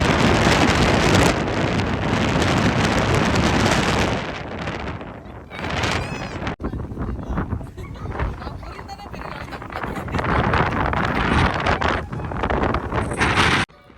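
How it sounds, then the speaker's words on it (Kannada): Very strong wind buffets the microphone outdoors in loud, continuous broadband roaring gusts that ease briefly around the middle before surging again; there is no clear talking. "ಇಲ್ಲಿ ಎಂಥ ಗಾಳಿ ಬೀಸ್ತಿದೆ ಗೊತ್ತಾ, ಇವತ್ತು ವಿಪರೀತ ಗಾಳಿ ಇತ್ತು. ಆ ಸೌಂಡ್ ಕೇಳಿಸ್ಕೊಳ್ಳಿ"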